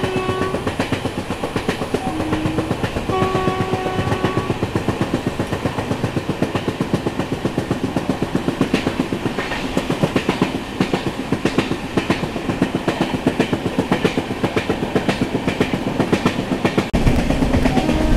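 Netravati Express passenger train running on rails along a coastal route in India, with loud, close, steady rhythmic clickety-clack of wheels over rail joints, continuous throughout and a brief horn early on.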